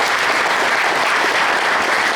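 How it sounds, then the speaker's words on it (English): Loud, dense applause from the crowd at a touchdown club meeting in Laurens County honoring a championship team, a continuous wash of many hands clapping close by. "Let's give them a round of applause."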